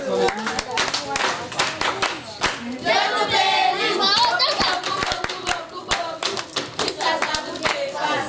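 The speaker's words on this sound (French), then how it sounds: "On applaudit très fort pour le centre." Loud, dense applause from a crowd at a welcome ceremony at an orphanage during a humanitarian visit, with sharp hand claps running throughout and children's voices mixed in.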